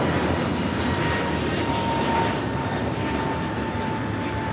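A Spirit Airlines airliner roars on takeoff from the south side at LAX, a loud, continuous engine rumble that fills the air without a break.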